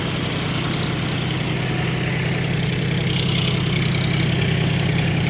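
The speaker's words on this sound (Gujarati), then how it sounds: "અહીંયા આપણું જોન ડીએ ટ્રેક્ટર છે" A John Deere 41 FP tractor engine idles steadily close by, a low rhythmic diesel chug that holds an even pace throughout.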